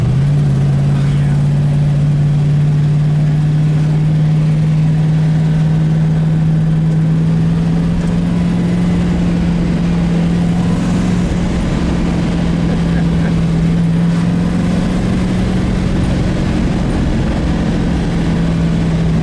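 A 1970 Ford Mustang Boss 429 runs its big engine in a loud, steady, low drone that rises very slightly over a long stretch, close to the listener, with talk partly masked underneath.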